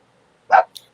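A dog gives one short, sharp bark nearby in an otherwise quiet room, followed by a brief, softer yip.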